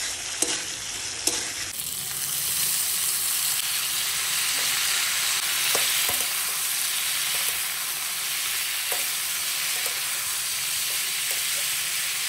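Flattened rice and cabbage fry in a pan, a steady broad sizzle running throughout with occasional stirring clicks and scrapes, close and fairly loud, without speech.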